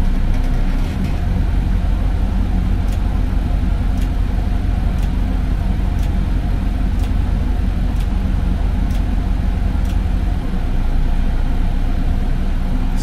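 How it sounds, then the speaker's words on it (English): Steady, loud mechanical roar of a gas turbine generator, a jet engine driving an electrical generator, running continuously, with a constant low drone and faint periodic ticks throughout. "So this is basically a jet engine in a box connected to a electrical generator."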